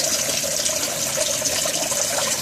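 Water runs steadily into an aquaponics fish tank, a continuous close splashing gush with no pauses and no voices.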